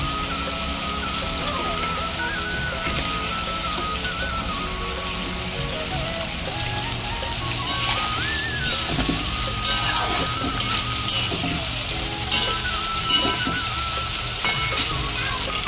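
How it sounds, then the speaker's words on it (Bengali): Potatoes frying in a pan on a home stove: a loud, dense, continuous sizzle close by, with crackles and occasional scraping or stirring clatter that grows busier toward the end, and no talking. "আলুগুলো ভালো করে ভেজে নিই"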